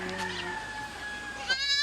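A newborn six-legged goat kid in San Nicolas, Ilocos Norte, gives a single drawn-out, thin bleat close by, then a brighter cry at the end, with a faint background hum.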